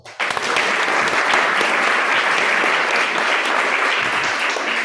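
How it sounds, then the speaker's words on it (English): A round of applause from an audience at a startup show-and-tell session, dense and steady clapping that starts abruptly and holds for several seconds, loud and close with no voices over it. "Let's give him a round of applause."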